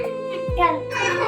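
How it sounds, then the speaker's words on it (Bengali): A young child whimpers and cries in a sustained, high wavering voice, close by, with a brief low thump partway through. "আমার বাচ্চা কান্না করে কেন?"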